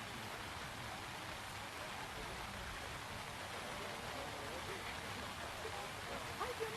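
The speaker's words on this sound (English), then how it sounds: "Rain's coming down pretty hard now." Hard rain pours steadily at an outdoor youth baseball championship game, a dense, even hiss filling the whole stretch without letup.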